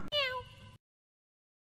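A single clear, close meow from a cat, rising then falling, followed by abrupt silence.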